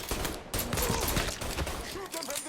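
Gunfire in Mafia 3 crackles in dense, rapid bursts during a robbery shootout, with loud close shots layered over a constant din and a brief pause.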